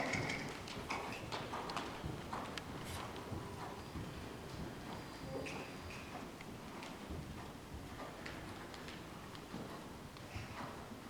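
A horse's hooves clip-clop steadily on an arena surface during a riding lesson, a moderately close, even rhythmic beat continuing throughout with a faint background hum.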